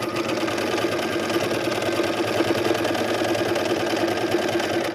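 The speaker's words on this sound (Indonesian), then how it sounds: "kita tinggal jahit lagi" A sewing machine stitches a fabric hem without a hemming foot, its steady, rapid mechanical whirr running loud and continuous from start to finish with no voices.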